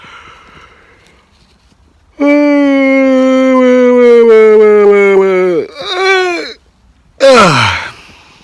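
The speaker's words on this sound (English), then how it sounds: "listen for the sound of yawns" A long, loud, drawn-out yawn with a falling pitch, followed by a shorter vocal trailing off and a brief breathy exhale.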